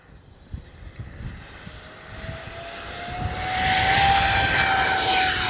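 A Freewing F-14A twin 64mm EDF RC jet takes off into the wind, its ducted-fan whine rising steadily in pitch and loudness over about five seconds, with a rumbling rolling noise underneath.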